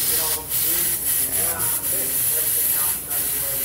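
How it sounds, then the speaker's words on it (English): Short bursts of compressed air from an air hose hiss loudly while a mountain bike tire is being seated, with brief pauses between blasts. "this one I'm going to try to seat with just the air hose"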